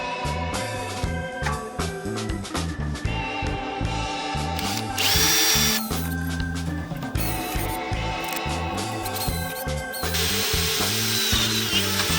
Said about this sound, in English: So I'm going to go ahead and just drill through and cut these out.